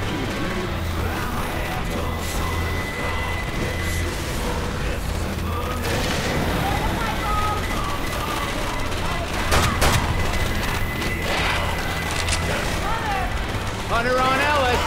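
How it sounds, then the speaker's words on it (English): A pipe bomb blast in Left 4 Dead 2 amid a chaotic fight: constant rapid gunfire and clatter with a sharp booming burst partway through, while voices shout over the din. "Pipe bomb!"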